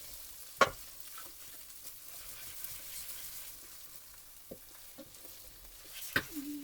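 Finely chopped chillies frying with ginger and garlic in a pan for palak chicken, a faint low sizzle punctuated by a few sharp spoon knocks against the pan.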